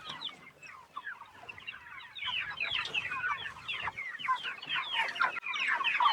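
A flock of meat chickens on pasture clucks and chatters continuously while being moved onto fresh grass, with overlapping calls that build and stay fairly close.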